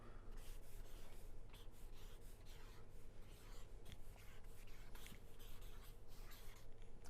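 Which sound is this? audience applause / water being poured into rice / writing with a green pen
writing with a green pen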